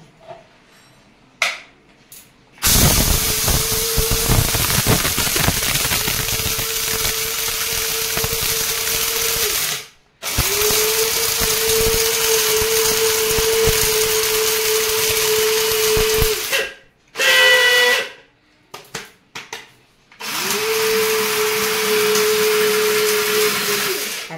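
An electric mini grinder pulverises dry lentils into gram flour, running in loud, steady whirring bursts of several seconds each, separated by short pauses and brief clatters as it stops and starts.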